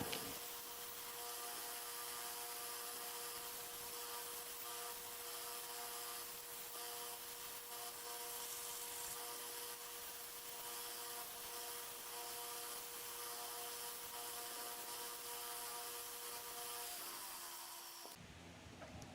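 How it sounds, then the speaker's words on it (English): Glued knife handles being sanded down to fit, a steady quiet rubbing and scraping that runs continuously for most of the stretch before stopping near the end. "Once the glue is cured, I sand these handles down to fit."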